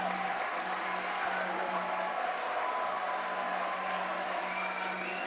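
A crowd murmurs and buzzes in a high school gym before a varsity basketball game between Harriton and Lower Merion, a steady, reverberant wash of many voices with faint scattered cheers under a nearby talker.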